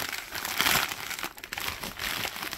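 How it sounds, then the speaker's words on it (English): A plastic bag holding diecast model cars crinkles and rustles steadily as it is cut open, a close continuous crackling without speech. "So we'll just cut this open."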